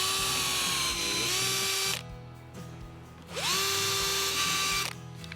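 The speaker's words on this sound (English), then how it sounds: "We're going to mark up all our pieces of timber and drill them." A power drill bores bolt holes through rough timber for a rustic box planter, whining loud and close in two bursts of about two seconds each, with a brief pause between them.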